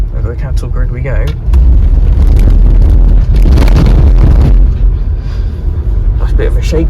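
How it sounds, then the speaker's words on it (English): A compact tractor towing a trailer rattles over a cattle grid on a road run at Holkham Hall. A heavy, close rumbling clatter swells and holds for several seconds over steady engine and wind noise. "Over the cattle grid we go."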